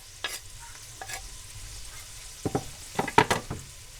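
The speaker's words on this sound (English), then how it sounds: "our veggies are softened and the meat's getting nicely browned" Ground beef and softened vegetables cooking in a pot for chili, with garlic going in; quiet background frying under several sharp stirring and scraping bursts, the busiest cluster near the end.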